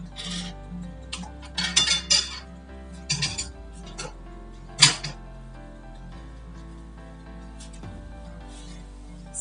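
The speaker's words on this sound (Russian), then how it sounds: "Закройте кастрюлю крышкой." A lid goes onto a pot of poultry broth, with metallic clinks and scraping rubs in a few bursts, then one sharp clank, over a steady low hum.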